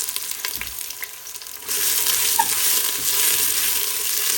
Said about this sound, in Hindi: और इस प्याज को लाइट ब्राउन होने तक फ्राई करेंगे।